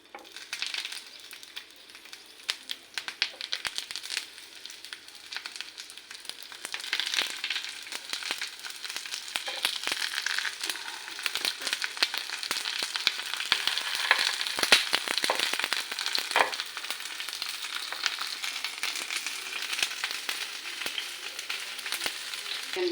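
Katla fish paturi parcels, tied with thread, sizzle and crackle as they fry in oil in a pan, a steady hiss that grows louder after the first few seconds, punctuated by sharp spitting pops.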